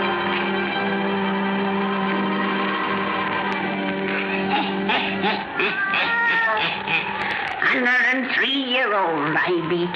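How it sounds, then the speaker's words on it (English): A black cat meows in an old 1931 radio horror drama, its drawn-out, wavering cries rising near the end over a steady bed of eerie background music. "Satan, her wise black cat"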